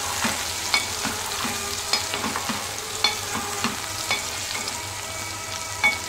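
Brinjal and green chillies sizzle and fry steadily in a pan while a utensil stirs and scrapes at irregular moments; close and moderately loud, no talking.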